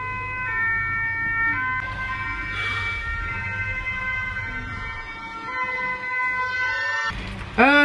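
An ambulance siren passes along a street, its wailing two-tone pitch sweeping steadily and fairly loud for several seconds over traffic rumble, then fading before a brief louder burst at the end.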